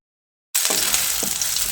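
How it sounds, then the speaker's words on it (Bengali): Cauliflower florets fry in hot oil over high heat, giving a loud, steady, hissing sizzle that begins abruptly after a moment of silence, with a couple of soft stirring knocks underneath. "খুব তাড়াতাড়ি করে কপিগুলোকে ভেজে নিতে হবে"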